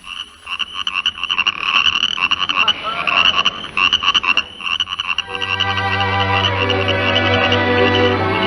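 A sound effect of frogs croaking plays from a 1942 radio broadcast: a rapid pulsing chorus of croaks that settles into a loud sustained chirring drone, with no talk over it.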